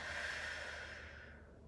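A slow exhale pushed out through the mouth during a posture and core exercise, a steady breathy rush close to the mic that thins and fades toward the end.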